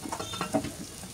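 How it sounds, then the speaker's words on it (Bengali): Pumpkin flower and lentil fritters (bora) fry in hot oil, a soft steady sizzle with a few light stirring or turning clicks, faint and close, no voices. "এখন এইভাবে আমি বড়াগুলো ভেজে"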